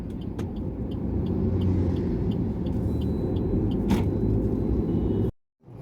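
A car driving on a highway with a steady, loud road and engine rumble heard from inside the cabin, a couple of faint clicks along the way, before the sound cuts off abruptly near the end.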